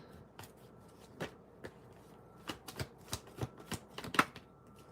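Tarot cards are shuffled in a soft, quiet run of papery riffles and taps. The patter is irregular and grows busier toward the end, with no voices over it.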